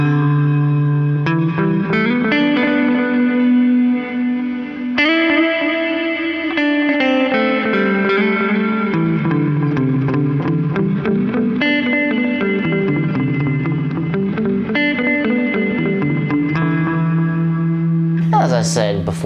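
Guitar run through a Horizon Devices Flux Echo pedal in its middle position, playing a continuous line of notes washed in echo, reverb and shimmering ambience, steady and loud for the whole passage, with a brief bright swell at the end.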